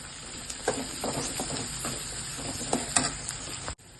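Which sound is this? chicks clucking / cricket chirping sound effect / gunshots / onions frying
onions frying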